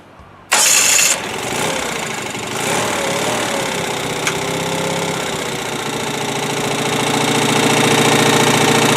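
An Onan CCKB engine fitted with a new exhaust cranks and catches with a sharp burst, then settles into a steady, loud, close running drone with a rough, slightly uneven beat, and no one speaks over it.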